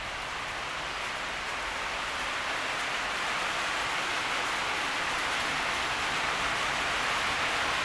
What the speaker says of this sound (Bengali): জবরদস্ত বৃষ্টি আর অন্ধকার হয়ে গেছে